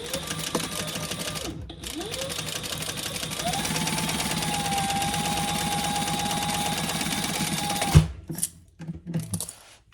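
Sewing machine stitching the side seams of a crossbody bag, a steady rapid mechanical chatter with a whirring motor hum, starting and stopping briefly, then running continuously before ending with a few clunks.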